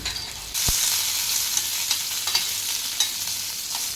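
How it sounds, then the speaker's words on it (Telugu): Urad dal and curry leaves fry in a pan for Andhra-style toor dal chutney, giving a steady close sizzle with occasional stirring scrapes and a soft knock near the start. "మినప్పప్పు వేసి కొద్దిగా కలుపుకోవాలి అందులోనే కరివేపాకు కూడా వేసుకొని బాగా వేయించుకోవాలి"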